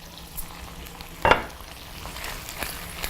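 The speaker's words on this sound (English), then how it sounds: "Let me stir this." Onions fry in a small skillet with a steady hiss, and one sharp scrape of a stir lands near the middle, followed by faint lighter sizzling.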